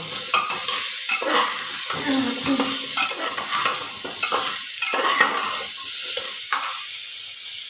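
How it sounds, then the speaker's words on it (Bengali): Onion fries in a pan with potato, papaya and carrot for chicken stew, giving a close, busy sizzle under frequent scraping stirs of a utensil against the pan. "ভালো করে একটু ভাজা ভাজা করে নেব"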